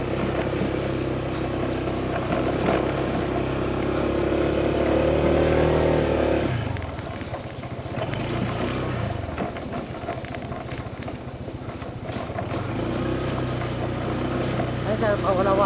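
A motorcycle engine drones steadily while riding on the road toward Dingalan, Aurora, with a loud, continuous hum that shifts pitch partway through as people talk over it.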